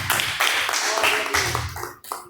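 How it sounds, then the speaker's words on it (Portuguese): Church congregation clapping hands in rhythm at a live worship service, a steady run of dense claps mixed with continuous talking voices. "Bate as palmas para Jesus, bate palmas, glórias a Deus, bate as palmas para Jesus."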